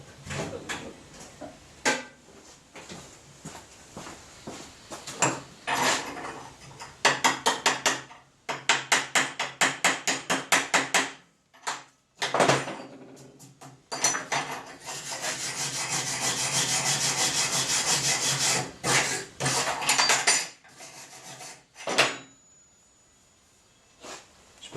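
A stiff brush scrubs across fresh concrete to break up the laitance, heard as bursts of rapid, gritty back-and-forth strokes, then a longer sustained scrubbing stretch, all close by with short pauses between passes.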